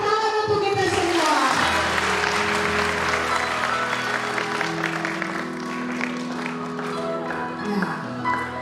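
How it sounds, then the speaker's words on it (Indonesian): Group of children at an Easter camping activity break into steady applause, clapping together for several seconds as voices sing and call out over it. "Tepuk tangan untuk kita semua."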